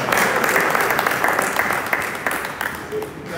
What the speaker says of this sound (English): Oh, another round of applause.